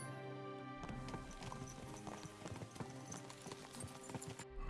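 A horse's hooves clop in a steady rhythm in the medieval video game Kingdom Come: Deliverance II as the horse rears, the hoofbeats landing over a layer of game ambience and music.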